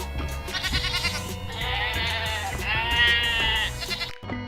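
Two drawn-out, wavering goat bleats sound one after another over a steady musical backing, clear and close.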